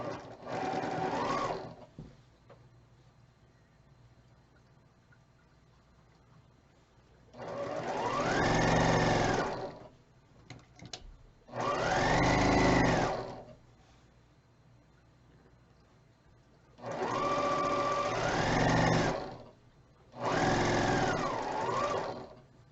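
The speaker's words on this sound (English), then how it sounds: "we're just going to sew all 3 of these together, and that's the block" A sewing machine stitches quilt block strips together in five separate bursts of fast, buzzing whir, each a few seconds long, with quiet pauses between them.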